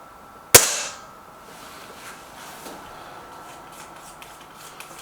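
A single sharp Gamo Whisper Sting air rifle shot cracks out early, close and loud, then fades quickly into a quiet background with faint small rustles.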